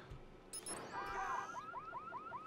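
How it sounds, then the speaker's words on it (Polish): Car alarm in the video game Watch Dogs, a faint, repeating rising electronic wail that follows a brief clatter, heard at low level. "auto alarm"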